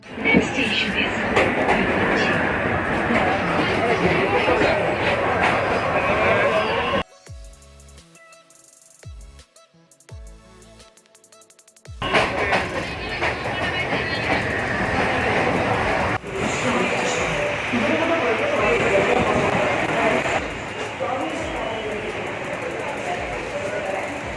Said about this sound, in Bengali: বনগা থেকে পনেরো রুপি দিয়ে ট্রেনে করে চলে আসলাম দমদম জংশনে